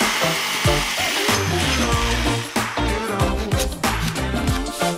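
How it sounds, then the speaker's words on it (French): A hand saw cuts through wooden sticks for marshmallow-roasting handles, a steady rasping back-and-forth stroke rhythm, close and loud throughout. "Et là, j'ai envie de les couper pour faire comme des genres de manches à bâton à guimauve."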